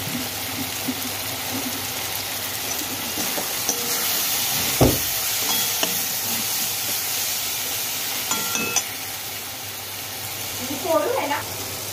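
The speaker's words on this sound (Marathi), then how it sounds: "मसाला आपला फ्राय झालेला आहे" Masala for veg kofta curry fries in a pan with a steady, even hiss and sizzle, a few stirring knocks and clinks breaking through the sound.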